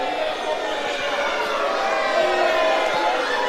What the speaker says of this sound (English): Crowd really voicing their displeasure at Tyson Reid here